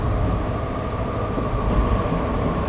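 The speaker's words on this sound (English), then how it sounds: "as we can see, another tram arriving" A tram in the video game Train Simulator Classic arrives with a continuous, loud low rumble of wheels and running gear, steady throughout, with no voices over it.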